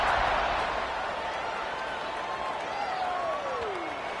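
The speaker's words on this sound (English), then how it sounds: "this crowd is buzzing after that last score" Steady, dense crowd noise fills a football stadium during a Toledo game, a broad continuous roar at even loudness throughout with no break.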